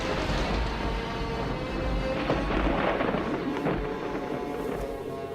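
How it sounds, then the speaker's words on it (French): An approaching thunderstorm in an animated Bible film rolls as a continuous, heavy, booming rumble that swells slightly midway and carries on with no voices over it. "L'orage se rapproche, Noémie."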